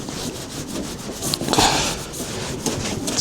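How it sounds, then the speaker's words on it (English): Polish rubbed by hand onto the door lock of a Fiat Ducato motorhome, steady close rasping strokes back and forth with no talking. "Give it a nice good rub in so it's all."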